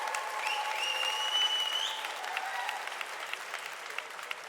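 A gala audience breaks into sustained applause, a dense patter of many hands clapping with a few whistles rising over it early, easing slightly in loudness toward the end.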